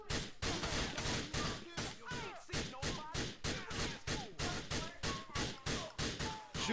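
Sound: gunfire in the video game GTA IV

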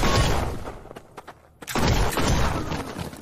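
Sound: shotgun gunfire in the video game Killer Bean

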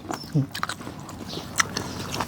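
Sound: crunchy chewing of blanched giant squid spicy salad

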